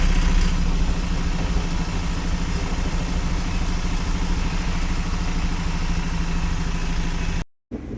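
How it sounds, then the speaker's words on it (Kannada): An Eicher Pro 2110 truck engine runs loudly and close by while reversing. The rumble is steady and broadband, then cuts out abruptly near the end before returning. "ಈಗ ಒಂದು ಗಾಡಿ ರಿವರ್ಸ್ ಆಗ್ತಾಯಿದೆ"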